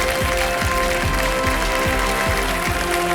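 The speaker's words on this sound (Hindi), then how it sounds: "जोरदार तालियां हमारे कुंजल सिंह के लिए" Studio audience applause for a female contestant on the Indian quiz show Kaun Banega Crodpati, a dense steady clapping wash partly masked by loud rhythmic, ticking show music with sustained tones.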